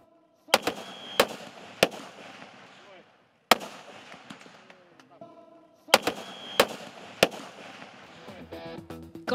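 Sharp rifle shots crack at a Marine Corps shooting range competition in Cilandak, Jakarta, several loud separate reports in uneven bursts with short gaps between them, while a voice speaks over them.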